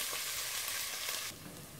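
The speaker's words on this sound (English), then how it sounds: "right now I'm frying my onions" Chopped onions fry steadily in a pan, a dense continuous sizzle that drops slightly in brightness near the end, close and alone with no talk.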